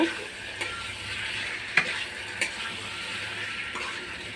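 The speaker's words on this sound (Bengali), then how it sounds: "ঝিঙেগুলো দিয়ে দেবো, দিয়ে ভালো করে নাড়াচাড়া করে নেব।" Ridge gourd pieces stirred and fried in a pan for a vegetarian gourd and potato dish, a steady close sizzle with a few sharp scrape clicks of the spatula against the pan, no voices.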